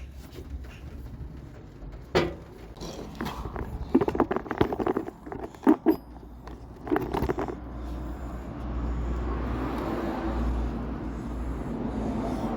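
Steady rain patters and hisses, building into a continuous wash after a few scattered knocks and thumps.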